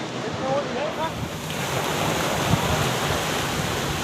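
Sea surf washes steadily onto a beach in Goa, a broad continuous rush mixed with wind buffeting the microphone and faint distant voices.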